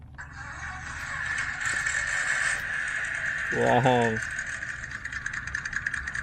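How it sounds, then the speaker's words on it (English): Orlandoo Hunter OH32X01 miniature RC car sounding its simulated engine-start effect outdoors at a skate park, a brief electronic cranking burst over a steady buzzing hum, with a voice briefly exclaiming. "And this has a very cool engine starting sound."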